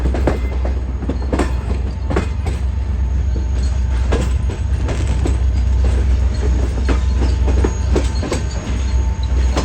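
Shah Hussain Express passenger train rolling into the main platform at Faisalabad, with a steady loud rumble and rhythmic clickety-clack of wheels over rail joints and faint squeals throughout, heard from on board with no talking.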